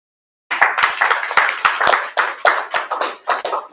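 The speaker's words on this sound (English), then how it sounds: "A round of applause." Applause at a press conference: a crowd claps in a dense, steady burst that starts abruptly and continues throughout, with sharper individual claps standing out, fairly close and loud.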